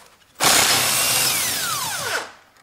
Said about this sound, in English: when I use a little bit longer bar and impact driver, I can open this bolt easily in that way